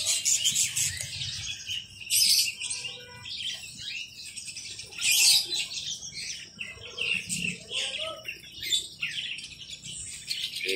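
A jarak suren songbird kept as a cage bird for sale chirps and trills in repeated bright bursts, fairly close, with a few faint insect-like buzzes behind it.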